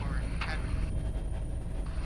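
A Canadian Griffon military helicopter flies overhead on an aid trip in the Philippines, a steady rumbling rotor and engine drone under talk, moderately distant.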